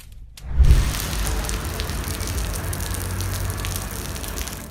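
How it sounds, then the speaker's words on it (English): A steady outdoor downpour falling in a single spot, a dense wash of rain hitting the ground that swells in quickly after a brief quiet start and continues loud and even. "rain falling only in one spot"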